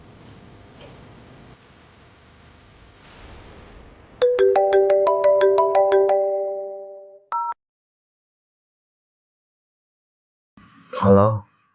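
A phone ringtone sounds while a call is placed, a repeating tonal melody ringing clearly for a few seconds before cutting off, preceded by faint background talk and followed by a brief voice.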